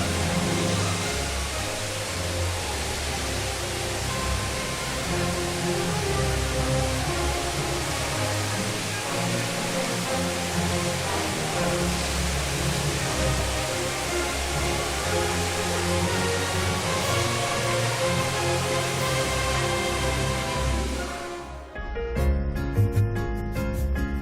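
A waterfall on Kulen mountain in Cambodia pours down with a dense, steady, broadband roar that stays loud and even for over twenty seconds before cutting off near the end, with no voices.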